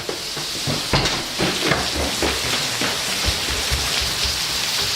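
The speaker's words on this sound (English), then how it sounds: "it's already raining, which kind of sucks." Steady Hurricane Irma rain falls outdoors, a dense continuous hiss with scattered louder drop impacts throughout, no voices present.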